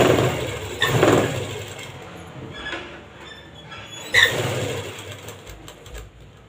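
Sewing machine stitching a seam on palazzo pants: a steady mechanical whir that surges louder near the start and again midway, close and alone.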